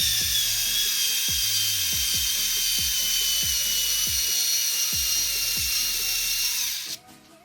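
An electric driver whirs steadily while driving 2.5 mm screws into a Super Bash front bumper on an Arrma Outcast 6S RC car, with a rapid series of clicking ratchets throughout before the motor stops near the end.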